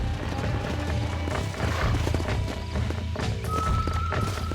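A horse in Red Dead Redemption, its hooves clopping steadily while it neighs, close and clear against a low background rumble.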